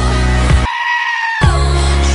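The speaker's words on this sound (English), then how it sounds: "putting screaming goats into Taylor Swift" A goat lets out a loud, sustained human-like scream, preceded and followed by short bleats, harsh and close with a strong droning tone.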